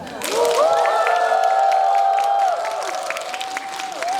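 Audience applause and cheering fill a packed CGV Yongsan I'Park Mall cinema hall at a screening of the film New Normal, with many whoops and shouts over steady clapping that swells and then eases slightly.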